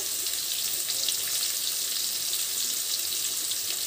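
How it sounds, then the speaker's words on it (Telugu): Raw banana pieces fry in hot oil with garlic in an Andhra-style stir-fry, giving a steady, dense sizzle close by that holds evenly throughout with no voices. "అరటికాయ ఒక 2 నిమిషాలు వేగనిద్దాము."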